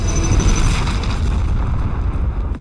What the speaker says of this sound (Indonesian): ledakan ini menewaskan para Sandra beserta Regu 401